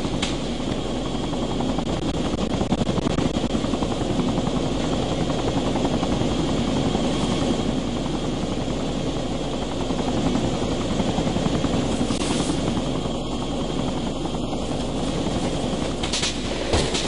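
Military helicopter in the video game ArmA 2, its rotor and turbine roaring in a loud, constant drone that fills the whole stretch without letup.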